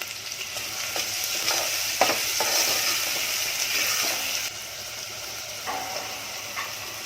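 Two medium onions sizzling in a pan for a Konkani fish curry, a steady hissing fry with occasional stirring scrapes and bumps, close and moderately loud, easing slightly toward the end.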